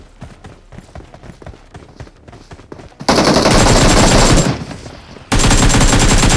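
Gunfire in the mobile battle-royale game PUBG Mobile: rapid single shots patter at first, then a loud sustained burst of automatic fire breaks off briefly and resumes, close and dominating.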